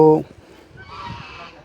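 A short loud honking call from a duck at the start, then quieter murmuring voices and faint background calls, outdoors at a Sikh gurdwara with trees.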